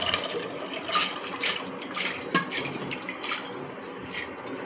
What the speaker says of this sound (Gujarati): 2 ગ્લાસ પાણી નાખ્યું છે